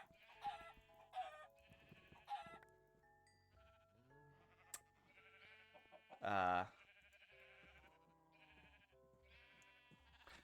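Minecraft sheep bleats sound a few times, one loud and close, amid a voice talking and short synthetic game effects.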